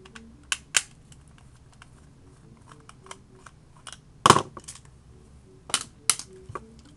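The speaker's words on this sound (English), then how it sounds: "Then two more on the opposite side. Unscrew those, of course." A small screwdriver works the screws out of an Xbox 360 wireless controller, giving sparse sharp plastic clicks and ticks with one louder clatter midway, all close and quiet.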